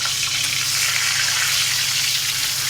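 Fish fry in hot oil in a pan, giving a steady, dense sizzling hiss that stays loud and unbroken throughout, with no talking.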